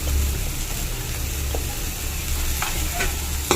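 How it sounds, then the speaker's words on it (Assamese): Moong dal being stirred in a hot pan with salt, a steady close sizzle of frying with a few scraping strokes of the spoon near the end. "নিমখ দি এয়া মই ভালদৰে আকৌ লৰাই লৈছোঁ"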